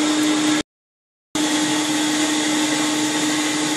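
Upholstery extraction machine suctioning a urine-treated fabric sofa cushion, a loud steady whine that cuts out briefly and then resumes, close and continuous.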